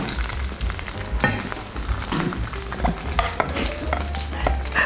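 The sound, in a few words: cod frying and sizzling in a pan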